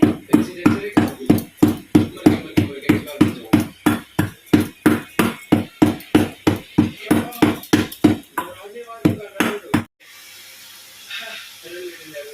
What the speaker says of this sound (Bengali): এই যে এলাচের দানাগুলো এখন গুঁড়ো করা হচ্ছে